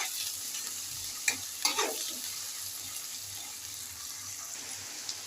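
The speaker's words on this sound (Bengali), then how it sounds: "পেঁয়াজ আর আদা রসুন বাটা আমি হালকা করে ভেজে নিয়েছি।" Onion and ginger-garlic paste fry gently over low heat in a pan, a soft continuous sizzle with a couple of brief utensil knocks and scrapes near the middle, no voices.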